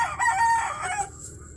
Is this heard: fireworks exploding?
no